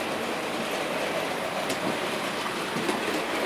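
A Bachmann Class 3 model locomotive runs along a model railway track, giving a steady, continuous rolling rumble with faint wheel clatter at close range throughout.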